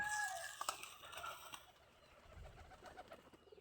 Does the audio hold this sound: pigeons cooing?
yes